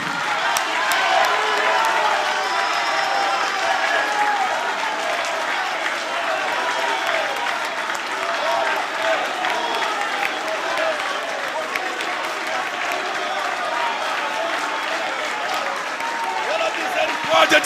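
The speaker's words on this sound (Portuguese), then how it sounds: "Vamos fazer o seguinte: 1 minuto de aplauso e glorificação ao Senhor sem cessar." A church congregation in Brasília claps continuously for a full stretch as worship, dense sustained applause with cheering voices and crowd murmur layered over it throughout.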